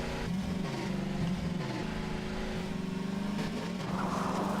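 Race car engine in the Garry's Mod video game, revving up and down through repeated gear shifts with a loud, continuous whine as it accelerates.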